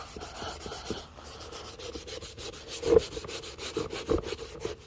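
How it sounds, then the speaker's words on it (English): Scotch-Brite pad scrubbing interior paint off a Foxbody Mustang, close and fairly quiet. The rubbing is a rapid, uneven run of rasping strokes with a few louder scuffs near the end. "take our little Scotch-Brite here and then just scrub it down"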